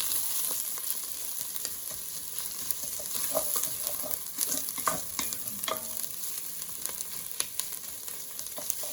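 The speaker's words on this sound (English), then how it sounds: "Stir that up." Beef stew with a couple of tablespoons of tomato paste is stirred in a hot pot: a continuous low sizzle with scattered spoon scrapes and clicks, close and alone, with no talking.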